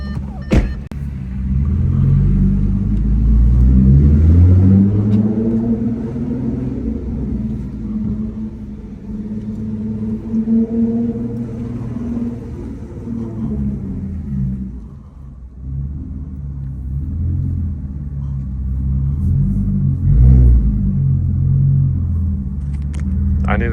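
A 600 hp supercharged Audi S5 with a loud exhaust drives at night, its engine rumbling deep and steady from inside the car, swelling under acceleration and dipping briefly before building again.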